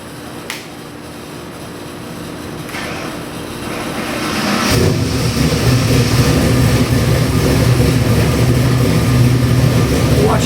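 A Ford 427 Windsor EFI crate engine, rated at 600 horsepower and mounted on a dyno, cranks and fires up about halfway through, then settles into a loud, steady rumbling idle after a quieter stretch.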